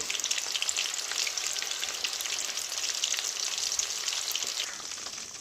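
Chicken pieces frying on high flame, a steady loud crackling sizzle, dense and continuous throughout with no voices.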